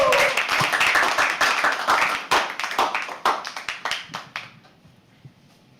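An audience at a live poetry open mic claps loudly in a dense burst that gradually thins into scattered claps and fades out.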